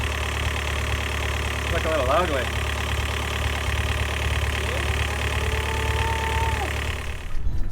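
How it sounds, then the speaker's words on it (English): A Yanmar 54 horsepower sailboat engine runs at a steady idle with a constant low rumble throughout, while someone talks over it. "can now charge our batteries when we are running the engine"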